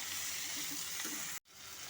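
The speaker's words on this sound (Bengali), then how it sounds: "লঙ্কার গুঁড়োর সাথে সমস্ত সবজিগুলোকে একটু ভাজা ভাজা করে নেব" Mixed vegetables frying with ghee and a little chili powder for a navratan biryani give a steady broadband sizzle that cuts off abruptly near the end, then returns more faintly.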